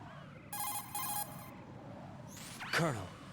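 A cell phone in the video game Metal Gear Solid 2 rings in two short electronic bursts, followed by a whoosh and a voice.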